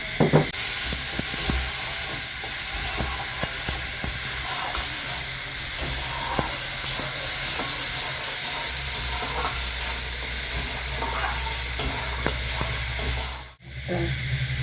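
Fish fries in a pan seasoned with chili powder, giving off a loud, steady sizzle and hiss with occasional stirring scrapes, close by and uninterrupted by speech.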